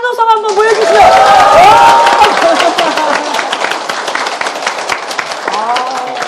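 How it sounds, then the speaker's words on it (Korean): A church congregation at Wondang Bansuk Church breaks into loud applause mixed with cheering voices, with a dense clatter of claps and vocal shouts rising early and tapering into continued clapping. "박수와 한호성 한번 보여주세요."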